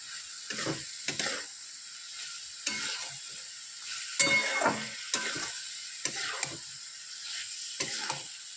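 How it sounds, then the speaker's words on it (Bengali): Paneer cubes and potato pieces fry in a spiced pan, a steady sizzle broken by repeated scraping stirs, several sharp spatula strokes spaced every second or so, close and alone with no talking. "এবার আমি দিব পনির আর আলু কেটে দিলাম। এবার আবার কিছুক্ষণ কষবো।"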